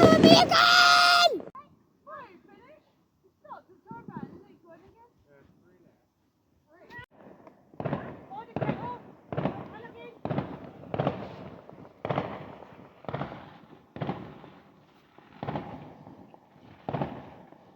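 Bonfire Night fireworks burst in a rapid series of sharp, loud bangs and crackles, about a dozen evenly spaced reports after a brief whoosh and quieter pops, with excited voices calling out over the noise.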